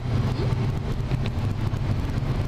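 A Peugeot 308 GTI with a 300-horsepower engine drives on a race track, its engine a steady, rumbling drone that hums on continuously without sharp revs.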